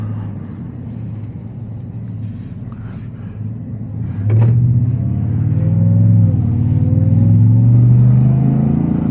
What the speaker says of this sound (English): I can gas it enough to where you can pick up some of the acceleration and torque, as well as the Supercharger whine and the exhaust